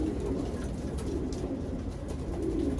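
Pigeons in a racing loft give low, soft coos, a continuous murmur at moderate distance.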